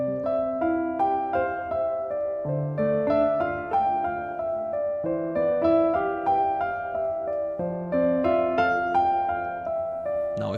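Piano played with no sustain pedal, each note and chord cut short and separate, a steady phrase repeating over about ten seconds, close and moderately loud with no voices.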